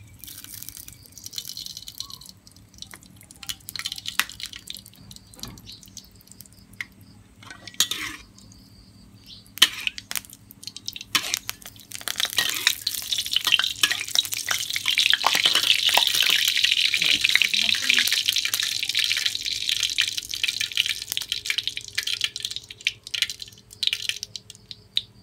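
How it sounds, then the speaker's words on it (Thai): Cooking oil is poured into a hot pan for a stir-fry of preserved radish with pork and egg, and a steady bright sizzle swells and holds for several seconds over a low background hum, with possible faint talk. "ใส่น้ำมันครับ"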